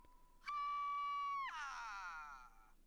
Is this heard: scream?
yes